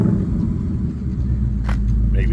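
A Ford Mustang Dark Horse fitted with a Corsa H-pipe exhaust rumbles deep and loud, a steady low engine drone filling the whole stretch, with people talking nearby.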